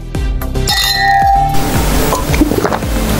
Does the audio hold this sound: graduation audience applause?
no